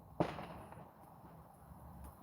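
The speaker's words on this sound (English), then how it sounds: "Man, they just gonna pop all them fireworks." A single firework pops outside, one sharp distant bang that fades quickly into quiet background, with no other bursts following.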